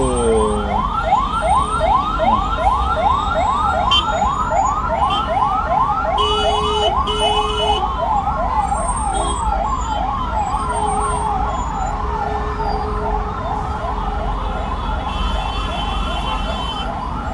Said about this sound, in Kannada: ಬೆಂಗಳೂರು ಟ್ರಾಫಿಕ್ನಲ್ಲಿ 2 ಆಂಬುಲೆನ್ಸು, ಗೊರಗುಂಟೆಪಾಳ್ಯ ಸಿಗ್ನಲ್ ಹತ್ರ 2 ಆಂಬುಲೆನ್ಸು